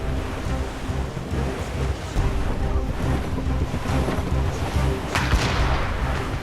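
Ship cannons fire during a naval battle in the Assassin's Creed Rogue video game, with heavy booming blasts rolling over a constant roar of sea and surf and no clear gaps between shots.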